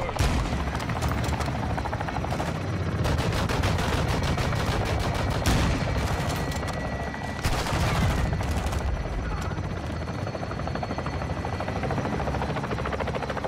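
Sustained gunfire in the Call of Duty Modern Warfare 2 video game, with rapid machine-gun bursts over a constant loud helicopter drone and dense battle noise, and radio chatter mixed in.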